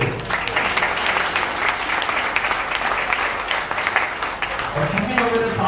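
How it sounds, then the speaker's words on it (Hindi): An audience applauds at a Hindi-language talk or stage event, sustained dense clapping lasting several seconds, loud and close, with a few voices breaking through near the end. "इसके लिए तालियां बजे"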